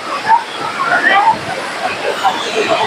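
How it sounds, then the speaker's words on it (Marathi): Waterfall at Chirma Devi near Thane gushing down from the hills, a steady broadband rush of falling water close by with bright splashing detail throughout, and faint voices mixed in. "डोंगरातून वाहणारा खळखळणारा धबधबा आहे"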